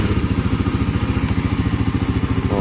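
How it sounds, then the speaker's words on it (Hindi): A Bajaj Pulsar NS400Z motorcycle engine idles close by with a steady, loud, rhythmic low thrum and faint mechanical clatter, and nobody speaks over it. "लो भाई बाइक की आवाज़ सुना देता हूँ आपको।"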